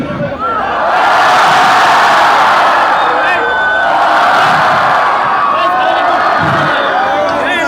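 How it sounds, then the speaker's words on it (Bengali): A large audience shouts and cheers continuously, the crowd noise swelling louder and staying loud, a dense roaring hubbub of many voices close around. "এবার আমার হাত যত উপরে থাকবে তত জোরে চিল্লাবা"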